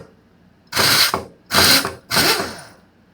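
A small air motor on a Captain's pneumatic power draw bar runs in three short loud bursts of about half a second each, separated by brief pauses, heard up close with no talking.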